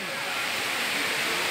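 River water rushes steadily beneath a living tree-root bridge in Meghalaya, a broad continuous close wash of flowing water with no pauses.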